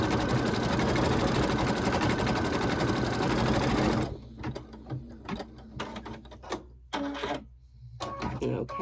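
A sewing machine used for embroidery stitches a bunny tummy treat holder with a loud, fast, steady mechanical whir that stops partway, followed by scattered clicks, clatter and handling noises.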